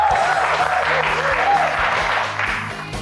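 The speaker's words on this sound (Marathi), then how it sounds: "मणी सरांपासून टाळ्या." Employees at a workplace gathering break into loud, sustained group applause, dense clapping continuing steadily over a bright musical tune that plays underneath before both taper slightly at the end.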